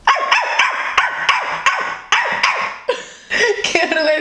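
A man imitates a dog with his voice, giving a rapid series of loud, close barks and yips in quick bursts, with a brief pause before a final cluster of sharper yelps.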